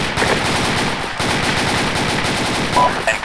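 Automatic rifles in the military game Arma fire sustained bursts, a dense and loud rattle of rapid shots with no gap across the whole stretch.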